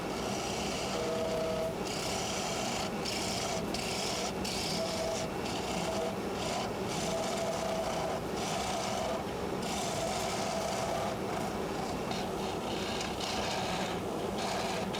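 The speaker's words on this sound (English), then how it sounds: "right now I'm just kind of removing the bulk of the material from the middle" A bowl gouge hollows the middle of a wooden bowl spinning on a lathe, making a steady, loud rasping hiss of wood being cut away, continuous and close, with no talking.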